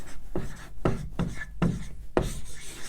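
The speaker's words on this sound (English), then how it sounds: "Let me write that down." Pen or pencil strokes scratching across paper as a number is written by hand, a series of short rubbing bursts in an uneven rhythm, close and fairly quiet, with no talk over them.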